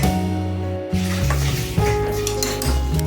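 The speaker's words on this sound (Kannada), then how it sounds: "ಈ ರೀತಿ ಒಂದು ಸ್ವಲ್ಪನೇ ಮೊಸರು ಅಥವಾ ಮಜ್ಜಿಗೆ ಸೇರಿಸಿ" Close sizzling and stirring as curd is mixed into batter in a pot on the stove, with a spoon scraping and clinking against the metal in a steady back-and-forth rhythm.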